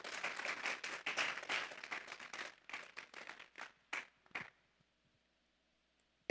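A church congregation applauds during a Sunday service, a dense burst of clapping that thins into scattered claps and stops after about four and a half seconds, leaving silence.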